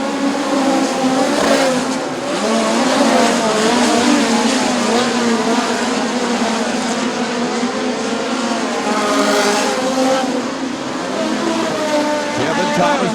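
Midget race cars racing at Bubba Raceway Park in the POWRi National Midget League, a loud continuous engine roar from the pack at full throttle, with an announcer talking over it throughout.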